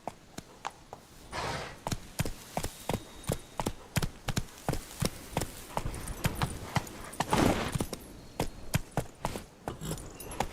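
Horse hooves clip-clopping in a steady rhythmic gait in The Witcher 3, close and distinct, with loud single thuds running on for about ten seconds and a brief rush of breath or wind partway through.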